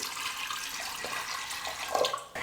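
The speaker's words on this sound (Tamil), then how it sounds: "பருப்பு வேகிறதுக்காக தண்ணி சேர்த்துக்கலாம்." Water is poured into a pressure cooker of chana dal in a home kitchen, a steady soft splashing wash that swells slightly near the end, close and quiet with no talk.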